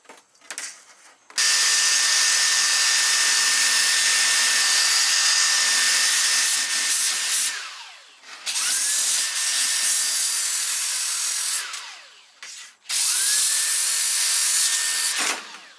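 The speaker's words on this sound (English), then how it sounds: "So I'm just going to sand it down really quick just to make it a little bit smoother." A power sander grinds down jagged cut metal edges on a Nissan 240SX S14 build, running in three long, loud, steady passes separated by brief stops.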